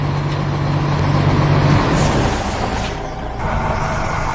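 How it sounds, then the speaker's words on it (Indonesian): A large yellow truck in a 3D animation rumbles past with heavy, broad road noise, loud and close, with a short hiss like an air brake partway through. "Lihatlah truk kuning besar itu berjalan menyusuri kota."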